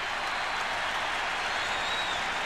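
A large stadium crowd at a Marshall vs West Virginia college football game sends up a steady, loud wash of distant roar and applause, with no talk over it.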